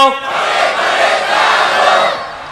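A crowd of listeners at an Islamic sermon gathering shouts "Allahu Akbar" together in answer to a takbir call, a loud, sustained massed chant lasting a couple of seconds and then fading slightly.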